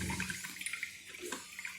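Heated water pours and gurgles in a steady stream inside a Morphy Richards electric coffee maker, close and fairly continuous with small bubbling splashes.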